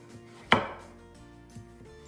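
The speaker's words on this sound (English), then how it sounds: "we're gonna hold the carrots with the opposite hand that we have the knife, and we're gonna make little cuts" A knife chops carrots on a cutting board, one loud sharp chop followed a second later by a softer second cut, close by in a quiet room with no talk.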